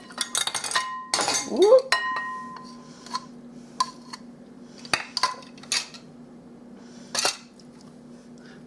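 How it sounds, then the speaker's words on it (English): Apricot preserves spooned into a bowl in a home kitchen: close clinks and scrapes of a metal spoon against the bowl, scattered irregularly, with a brief spoken exclamation near the start. "1 cup of apricot preserves going right in this bowl."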